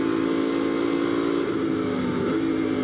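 A GT race car at Silverstone's Abbey corner during Blancpain GT Series pre-qualifying, a constant loud engine roar held throughout with a slight dip midway, close and without talk.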